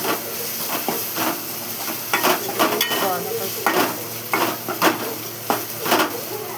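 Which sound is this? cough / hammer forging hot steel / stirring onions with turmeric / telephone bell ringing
stirring onions with turmeric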